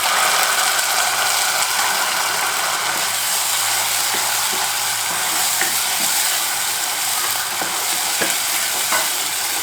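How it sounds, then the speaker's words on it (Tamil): Ground paste sizzling after being added to sautéed onions in a pan for a prawn, brinjal and potato curry, a steady loud frying hiss with intermittent scraping stirs, close and continuous. "நம்ம அரைச்சி வச்ச விழுதை இதில் சேர்க்குறோம்."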